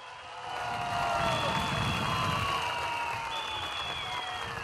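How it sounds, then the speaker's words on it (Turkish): A large outdoor crowd at a political rally in Bahçelievler applauding marchers, a broad, sustained wash of clapping and cheering heard from a distance, with tonal whistles or horns running over the top. "Bir yürekten alkışlayalım onları."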